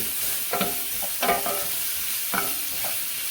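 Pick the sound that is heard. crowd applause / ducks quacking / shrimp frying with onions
shrimp frying with onions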